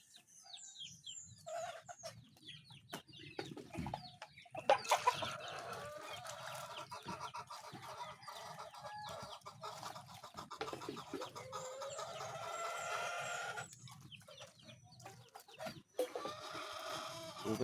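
Hens cluck repeatedly close by, a busy chorus of clucks and squawks with occasional louder calls over farmyard background noise.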